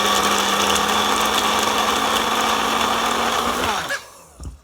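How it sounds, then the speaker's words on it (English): A Magic Bullet blender whirs steadily as it blends a milkshake, a loud continuous motor drone that winds down and stops near the end, followed by brief quiet clatter. "all you do is you push it down into the magic bullet, and it blends right up."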